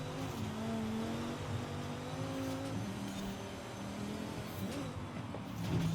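A race car in Forza Horizon 5 pushed hard through a sprint event, its engine holding a loud, steady revving drone that shifts pitch slightly as it accelerates, with no talking.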